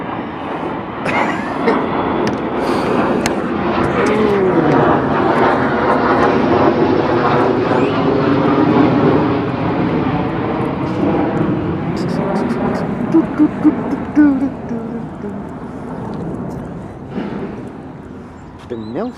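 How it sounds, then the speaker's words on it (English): A loud, low airplane roar swells overhead and holds for a long stretch before easing off, with a few faint clicks near the end. "Airplanes are coming."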